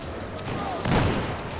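A .44 Magnum revolver fires in Battlefield 4, a single loud boom midway through a dense, noisy game soundscape with constant battle noise around it.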